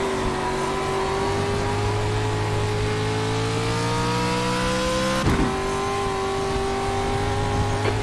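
A rear-wheel-drive truck in a racing video game, its engine droning loud and steady as the pitch climbs slowly under acceleration, then a sharp gear-change jolt before the revs rise again, with no talk.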